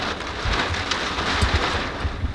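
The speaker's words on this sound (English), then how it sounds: "it's just waves of rain coming at us right now." Loud, dense rain pounds down in a continuous rush, with heavy gusty drumming and low rumbling surges, close and enveloping.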